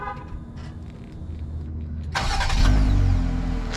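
A 2021 Jeep Gladiator Mojave starts by remote: a quiet idle gives way to the starter catch, then the engine settles into a loud, steady low hum close by with no talking.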